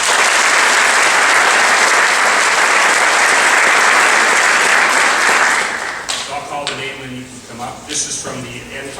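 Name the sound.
audience applause for scholarship donors at senior awards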